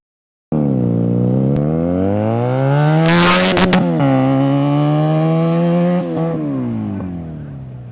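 A Benelli TNT 302 motorcycle roars past close by, its engine note climbing hard, peaking loud as it passes, then dropping in pitch and fading as it rides away, with no talk over it.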